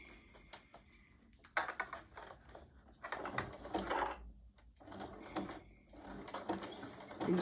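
A sewing machine with a walking foot stitches a fabric candle mat in short, fast bursts of mechanical clatter separated by pauses, fairly quiet and close with no talking.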